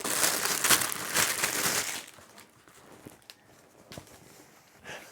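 Plastic packaging is torn open and crinkled while unboxing an ENGWE gift box, a close rustling burst that gives way to sparse, quieter crackles and handling noises.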